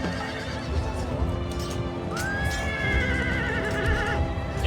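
Charging horse cavalry in a strategy video game, a loud drawn-out whinny rising over a dense rumble of galloping hooves and battle noise, with no speech over it.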